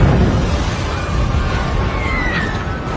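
A huge explosion from the Lavalantula film, where a volcano erupts in the middle of a California city, rumbles as a loud, continuous roar with dense low-end rumble for the full three seconds, a faint rising whistle emerging near the end.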